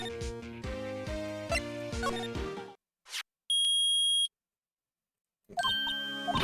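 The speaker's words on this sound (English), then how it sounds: "it's beeping. The metal detector's found something." Metal detector in the video game Phoenix Wright: Ace Attorney gives one loud, sustained electronic beep lasting under a second. It follows a stretch of game music and a short chime, then the music resumes.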